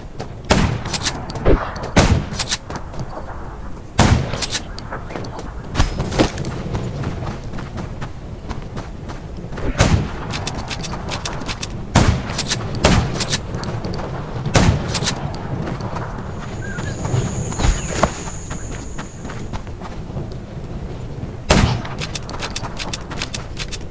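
Gunfire in the zombie survival game Undawn, sharp single shots spaced irregularly over a steady background, loud and close, with brief mechanical clicks between bursts and no talk.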